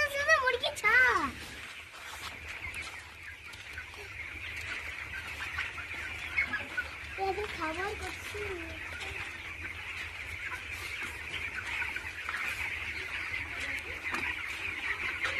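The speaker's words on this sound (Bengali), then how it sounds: "ও তেরি কত মুরগি আছে দেখো" Chickens and small chicks in a village yard cluck and chirp intermittently at middling distance, mixed with faint calls and a steady background hum while people talk nearby.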